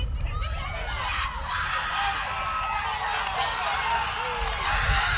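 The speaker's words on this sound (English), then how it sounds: "Have a listen to the crowd, Tom." Spectators at a youth rugby league match roar in a steady, broad crowd noise, fairly loud and continuous with surges and whistling shouts throughout.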